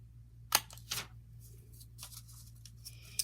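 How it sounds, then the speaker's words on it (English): A hole punch bites through folded paper for a recycled paper pinwheel craft, giving a sharp close snap followed by softer paper rustling and handling sounds, with no voices. "I happen to have a hole punch today, so I'm going to use that"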